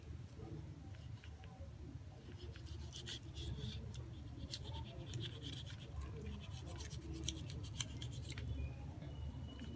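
A knife works through slippery raw chicken skin in a series of close, faint scraping and snipping strokes, irregular and quiet, with soft handling noises between cuts.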